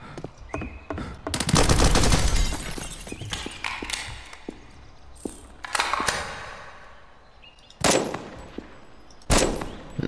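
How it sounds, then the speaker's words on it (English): Gunfire in the Roblox sniper game, with a burst of rapid automatic shots followed by scattered single cracks and a few louder blasts, close and sharp with quieter gaps between. "Oh, I shot a civilian."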